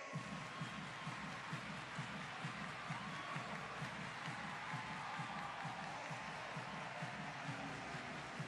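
Distant arena crowd at a Brazil versus England women's wheelchair basketball match, a steady murmur with soft scattered clapping and cheers, faint and even throughout.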